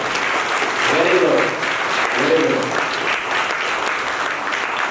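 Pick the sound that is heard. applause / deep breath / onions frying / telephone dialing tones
applause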